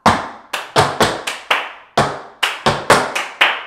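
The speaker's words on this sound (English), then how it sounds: "So it's stamping and clapping." A tap dancer performs flat-footed stamps and hand claps in a step, clap, ball change, clap, clap pattern, producing about a dozen sharp, close percussive hits in a brisk rhythm with short silences between groups.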